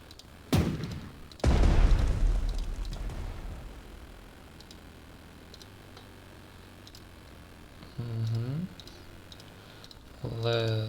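Cannon fire on a fort in the strategy game Strategic Mind: Fight for Freedom, two heavy booms near the start followed by a long rumbling decay, then later tonal whooshing shots over a low background hum.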